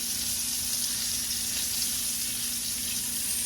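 Onions frying in a pan beside seasoned liver, giving a steady, close, bright sizzle that holds evenly throughout with no breaks or talking.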